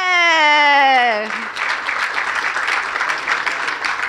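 Audience clapping at a pickleball hall of fame induction ceremony, a loud burst of applause from a crowd that follows a drawn-out high cheer or whoop at the start.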